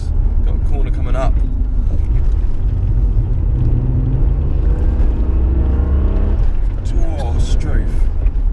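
An old Vauxhall Lotus Carlton saloon drives fast, with a loud, continuous engine rumble and road roar that shift in pitch as it drops to fifth gear and brakes hard, while someone talks over it.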